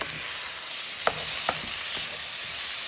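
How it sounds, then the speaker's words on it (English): Onions and garlic browning in a pan with lamb mince for a sweet potato lamb pie, a steady broad sizzle with a few soft stirring knocks, close and even. "Just browning this for a few minutes."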